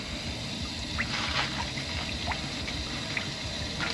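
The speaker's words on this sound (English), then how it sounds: "just shut the water off for a second." Steady rushing water running from a hose during sewer line cleaning and root removal, continuous and fairly close with small splashes, no voices.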